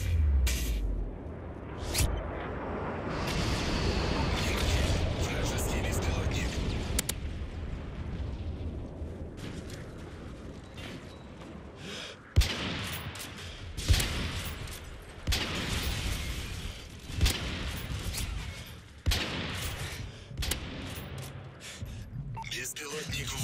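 A stealth bomber airstrike in the Modern Warfare 3 video game: a rolling wall of explosive roar gives way to a series of sharp, separate blasts over ongoing gunfire, with in-game voices.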